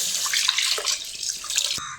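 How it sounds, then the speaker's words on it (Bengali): Milk pours into a cooking pot for payesh, a close, steady liquid rush and splash lasting a couple of seconds before cutting off. "এবার আমি সমস্ত দুধ দিয়ে দেবো"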